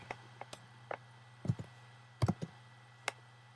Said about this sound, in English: And I just start typing what I want to return.